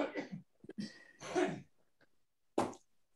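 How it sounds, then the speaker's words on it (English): A person coughs and clears their throat in a few short bursts during a Zoom session, with brief pauses between each sound and one final sharp cough after a gap. "I need to cough here a second."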